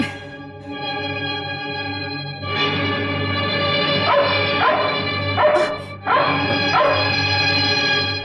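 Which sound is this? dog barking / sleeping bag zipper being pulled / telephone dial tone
dog barking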